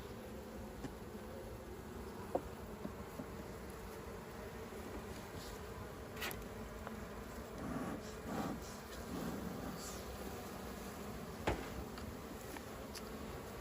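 Soft, steady buzzing of many honeybees on hive frames fills the background, faint and continuous, with occasional light knocks and no talking.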